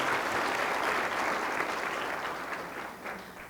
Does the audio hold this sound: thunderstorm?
no